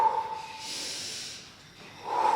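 A long, steady exhale during a cable exercise in a pregnancy workout: a soft, airy rush of breath close by, swelling and fading over about a second, with a faint tone before and after it.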